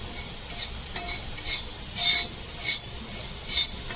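Coriander seeds, cumin and other whole masala spices dry-roasting and being stirred in a pan over low gas, a soft steady sizzle with faint scraping and a few small rustling bursts.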